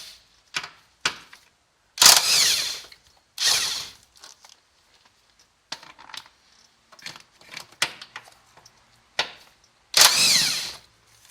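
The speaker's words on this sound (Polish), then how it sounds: "Bierzemy sobie nasadkę numer 12. Odkręcamy amortyzator." A 12 mm socket on a ratchet loosening the shock absorber bolt on an Infiniti (2008 on) during front lower control arm replacement, heard as several short bursts of metallic ratcheting and clicking separated by quiet pauses, close by.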